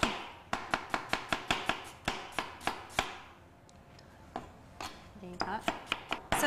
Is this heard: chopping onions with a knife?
yes